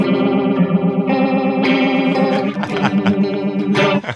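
Electric guitar run through an effects pedal with its knobs turned all the way up, giving a loud, chorused and distorted sustained tone with wavering pitch and strummed bursts near the end.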